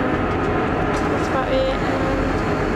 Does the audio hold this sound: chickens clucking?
no